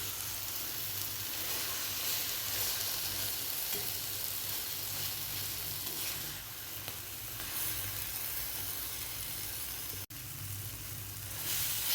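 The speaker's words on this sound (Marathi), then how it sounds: "असं खालवर करत 3 ते 4 मिनिट असं छान भाजून घ्यायचं आहे" Eggplant and chili thecha roasting on a hot tawa, a dense continuous sizzle heard up close, with short dips in level partway through and a brief scraping stir.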